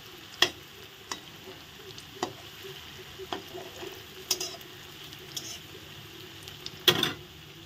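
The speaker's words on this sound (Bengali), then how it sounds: "এখন আমি ভেজে নিচ্ছি।" Raw banana koftas fry in oil in a pan, a soft continuous sizzle broken by a handful of sharp clicks and scrapes from a utensil stirring or touching the pan, close and fairly quiet, with no talk.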